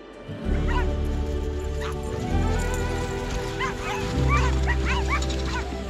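Sled dogs at a kennel north of the Arctic Circle in Norway bark and yip in repeated bursts, with higher whines and yelps scattered among the barking, fairly close and continuous throughout.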